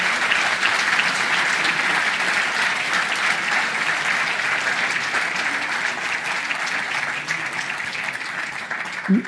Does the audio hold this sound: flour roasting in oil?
no